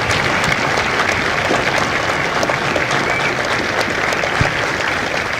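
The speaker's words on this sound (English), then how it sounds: "a round of applause for their dedicated service to corps and country" Sustained crowd applause at a Marine Corps Recruit Depot San Diego graduation ceremony honoring Marine veterans, a broad steady wash of many hands clapping outdoors at fairly even volume, with no one speaking over it.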